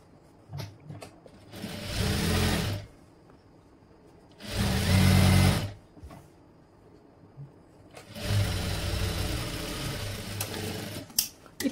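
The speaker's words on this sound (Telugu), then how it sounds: "ఓకే, ఇప్పుడు దీనిపైన కుట్టు అయితే వేసేస్తాను నేను." A domestic sewing machine stitches the shoulder seam of a boat-neck designer dress in three steady whirring bursts of about two to three seconds each, separated by quiet pauses, recorded close.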